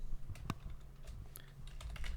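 Quick bursts of typing on a computer keyboard during an After Effects particles tutorial, with scattered key clicks close up and no speech over them.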